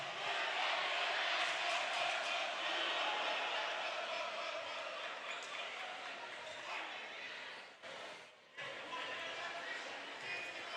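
Crowd noise fills a high school gym during a Cape Central versus Sikeston basketball game, a steady roar of chatter and cheering throughout, with a brief dip near the end.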